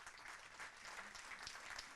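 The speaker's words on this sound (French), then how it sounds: "Je vais demander que vous applaudissiez Madame Valérie Toragnan qui va nous rejoindre sur scène." Conference audience applauding as a speaker joins the stage at a talk on Armenia, a faint, steady patter of clapping from a distance.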